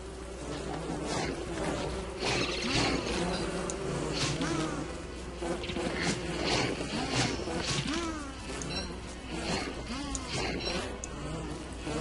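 Killer bees buzz in the video game Don't Starve, a busy fluttering drone running throughout over a low ambient bed, with someone talking over it.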